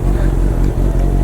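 A Honda CBR650 superbike idles while warming up after being started, a loud, close, steady low engine rumble with slight uneven pulsing throughout.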